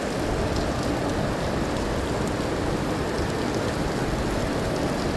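Steady rain pours down on a rainy day, a dense, even hiss of drops striking surfaces that holds constant throughout without any voices.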